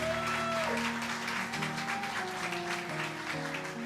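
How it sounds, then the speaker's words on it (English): An audience at a tribute evening for comedian Larry Storch at the Metropolitan Room cabaret in New York claps steadily, the dense applause continuing under sustained piano-like music tones. "You can applaud now."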